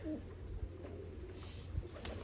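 Teddy pigeons coo softly in a short, low-level stretch over a steady droning hum, with two small soft knocks.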